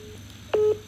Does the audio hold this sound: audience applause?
no